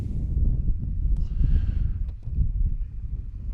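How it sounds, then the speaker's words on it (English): Low, rumbling wind buffeting the microphone in gusts, loud and continuous with no voices. "It has gotten windy, very windy."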